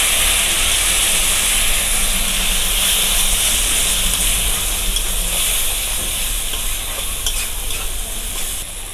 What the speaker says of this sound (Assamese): আৰু মই ইয়াত অকণমান পানী দিম যাতে জ্বলি নাযায় মছলাখিনি।